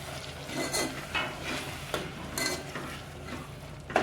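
A spoon stirs chopped tomatoes into a cashew and gathiya curry in a hot pan, scraping and clattering in repeated strokes against the metal over a soft continuous sizzle, fairly close.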